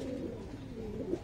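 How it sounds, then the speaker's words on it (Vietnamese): Pigeons, a mix of French and Titan breeds, coo in a loft, with low, steady, overlapping cooing held close and at an even level through the short stretch. "toàn bộ là bồ câu gà với lại bồ câu titan nha các bạn"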